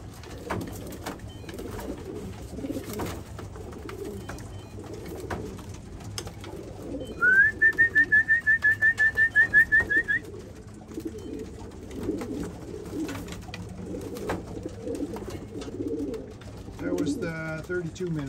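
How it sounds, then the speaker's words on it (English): A rapid train of pigeon calls repeats about a dozen times in a quick burst near the middle as racing pigeons arrive, over a low background rumble and scattered faint noises. "here's all the birds coming in"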